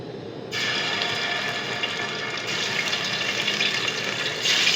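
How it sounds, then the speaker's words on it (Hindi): Koftas are dropped into hot oil, and a loud, steady sizzling hiss starts abruptly after a brief quiet moment, then grows slightly stronger toward the end. "तेल गरम हो चुका है। अब इसी में कोफ्ते डालेंगे।"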